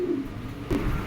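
Female Modena pigeons coo in a low, throaty rolling call, with one burst early and a second swell near the end, close by and alone.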